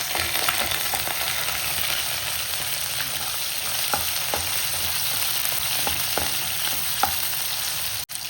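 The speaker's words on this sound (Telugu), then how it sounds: "ఇవన్నీ కొంచెం ఫ్రై అవ్వాలి." Onion, mustard seeds, cumin and green chilies frying in oil in a pan, a continuous close sizzle with scattered soft pops and occasional light stirring taps, ending with a sharp clack.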